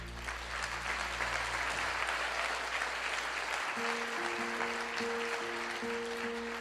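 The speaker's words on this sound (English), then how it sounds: "Give yourselves a round of applause" An audience applauds at a motivational speech, a soft, even wash of clapping that carries on throughout, with steady low tones humming underneath.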